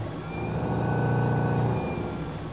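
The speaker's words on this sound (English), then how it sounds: "The electric engine of the Hanse 315 rudder drive is controlled via the top-mounted throttle." Steady low hum of the electric motor in a Hanse 315 sailboat's e-Motion rudder drive, run from a top-mounted throttle, holding a constant drone that swells slightly midway before easing, with no talk.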